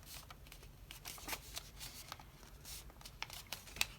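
Paper being creased and folded into an origami cat or dog, with crisp rustling crinkles and sharp creasing swipes coming in irregular bursts, close up and fairly quiet.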